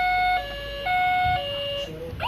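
A toy car steering wheel plays an electronic ambulance siren: steady two-pitch beeping tones alternate at a brisk, even rhythm, loud and close, with no voices over it.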